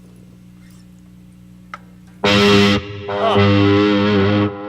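Loud distorted electric guitar on a Washburn Dime through a Black Label chorus, a quiet hum and single tick, then a heavy sustained chord, a brief gap, and another long chord, close and saturated.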